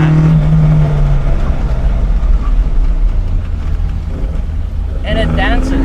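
An old Alfa Romeo 1750 GTV on carburetors accelerates hard, its engine droning loud and close from inside the car in a sustained low roar, with a rising whine near the end.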